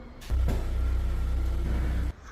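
A car engine fires up abruptly, settles into a loud, low, steady rumble for nearly two seconds, then cuts off sharply.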